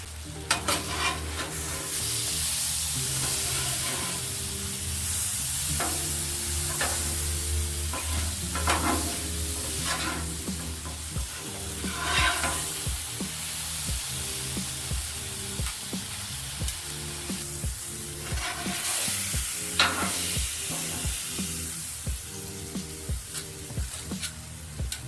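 Peach halves sizzle on a hot grill as they caramelize, with a steady, close crackle broken by intermittent scraping and shifting sounds, and no talking.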